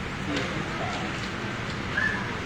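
Rain falls outdoors at Gardens by the Bay at Marina Bay, making a steady, soft hiss. A bird chirps faintly once or twice in the background.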